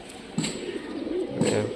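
Kept pigeons in Rajshahi give a few low, rolling coos, two or three swells rising and falling close by against a quiet background.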